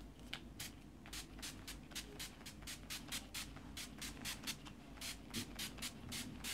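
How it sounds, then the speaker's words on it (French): NYX Dewy Finish makeup setting spray misted in a long run of quick, evenly spaced hissing pumps, close and fairly soft, with no talking. "Donc là, je vais prendre le spray Dewy Finish de chez NYX."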